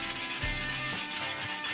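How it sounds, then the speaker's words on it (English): Steady back-and-forth rubbing as rust is scoured off a scythe blade, a dry abrasive scratching that repeats in short strokes, close and fairly quiet with no talk. "And you just rub away and the stuff comes off as if by magic."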